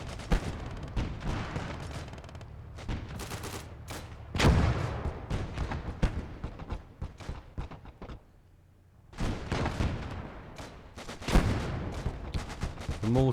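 Mortar fire in the WWII strategy game Gates of Hell, with repeated booming blasts and crackling gunfire in dense volleys, a brief lull midway before the barrage resumes.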